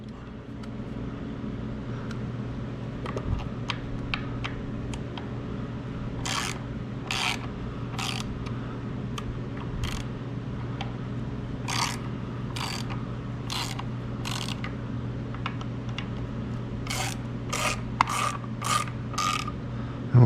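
A ratchet wrench loosens socket head cap screws on a 2016 Harley-Davidson Street Bob during an air cleaner install, giving bursts of rapid metallic clicking in repeated strokes over a steady low hum, with no talking.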